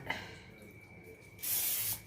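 Cooking spray is sprayed onto the bottom of a baking pan for cinnamon rolls: one short, close, loud hissing burst of about half a second after a quiet lead-in.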